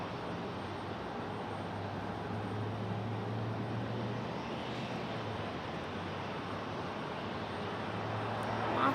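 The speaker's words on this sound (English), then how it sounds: "This one landing is Delta Airlines Oh, it's Delta. 2537. A220-300 coming in from Boston." A Delta Airlines A220-300 airliner from Boston lands at Raleigh-Durham, its engine noise a faint, steady distant rumble with a slight rise at the very end.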